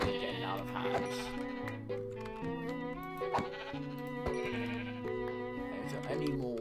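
Sheep bleats from the Minecraft video game ring out amid steady, stepped background music, with a voice talking over them throughout.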